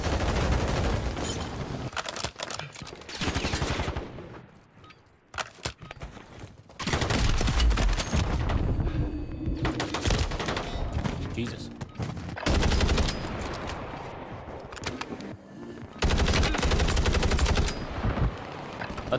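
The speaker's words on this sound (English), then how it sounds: "Renetti pistol." Renetti pistol fire in the Call of Duty Warzone video game, loud rapid bursts of shots in several long volleys separated by brief quieter gaps, close and dominant.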